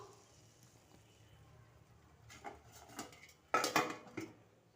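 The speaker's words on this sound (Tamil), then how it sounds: "இப்போ மறுபடியும் மூடியை போட்டு மூடிடுவோம்" A metal lid clatters down onto a pot of chicken dum biryani after stirring, a loud clanking burst with a few smaller knocks around it, close by over faint kitchen background.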